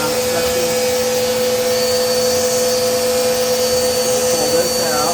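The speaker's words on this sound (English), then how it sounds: "let's check this thing for suction here and see if it works pretty good" A vacuum running steady suction through a dryer vent cleaning kit, a loud, unbroken whooshing roar with a constant motor whine that holds level from start to finish.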